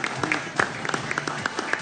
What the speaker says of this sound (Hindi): जावेद भाई के लिए बहुत सारी तालियां।